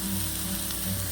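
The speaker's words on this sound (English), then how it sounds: "So our onions are browning." Onions browning in a hot pan, giving a brief, steady, close sizzle with no breaks.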